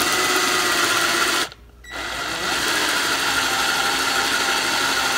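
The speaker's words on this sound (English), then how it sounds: "All right, so we've got our bigger drill bit in there." A power drill with a large bit bores a hole into a rifle stock, giving a loud, steady high whine. It stops briefly for a moment, then spins up again and carries on.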